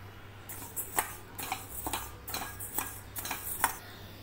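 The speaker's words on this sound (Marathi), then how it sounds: "1 कप तांदूळ भाजून घ्यायचे।" One cup of rice dry-roasting in a pan for a Vidarbha-style yesur masala, with soft dry rattling and scraping as the grains are stirred in short strokes, faint and close, with no talk.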